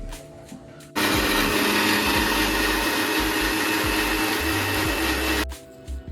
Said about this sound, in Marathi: आता मी डायरेक्ट हे मिक्सरला वाटणार आहे आणि यामध्ये पाणी नाही टाकायचं.